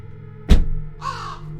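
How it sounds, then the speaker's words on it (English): A single crow caws nearby, one harsh loud call followed by a fainter rasping caw, set against a low hum. "The only sign of life was the eerie cawing of crows from above"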